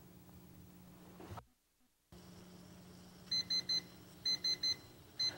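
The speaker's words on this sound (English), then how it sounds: "I just could hear the beep." After a brief silence, a Cuisinart electric pressure cooker beeps in three groups of three sharp, high tones over a quiet hum.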